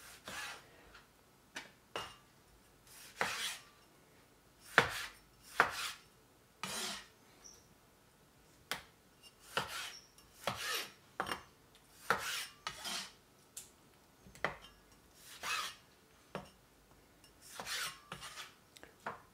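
Knife chopping a big chunky tomato on a cutting board for a Greek salad, a series of sharp, quiet cuts in an irregular rhythm, close and alone with no talk.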